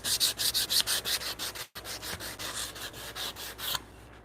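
Hand sanding of wood edges to smooth and round them for a through mortise joint in a workshop, a steady series of close rhythmic rasping strokes, a brief pause, then more continuous rubbing.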